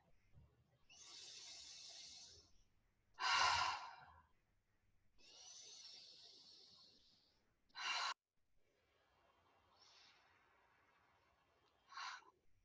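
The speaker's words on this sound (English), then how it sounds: "Let's take 4 deep breaths." Slow, deep meditative breaths come close to the microphone: long airy inhales alternate with sharper, louder exhales, about three full cycles in a quiet room.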